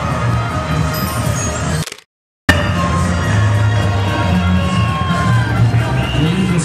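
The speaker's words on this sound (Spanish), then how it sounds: "Que se escuchen los aplausos para recibir a la virreina departamental" Crowd cheering and applause greeting the departmental vice-queen at a Miss Lavalle pageant, a loud, continuous roar with whoops, briefly cut to silence before resuming just as strongly.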